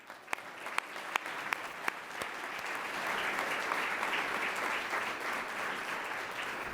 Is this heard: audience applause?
yes